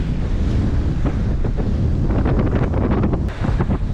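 Gusting wind batters the microphone while a sailboat beats upwind through waves in the Goulet de Brest, Brittany, a strong-current passage; the roar of wind and the splash of water continue loud and unbroken.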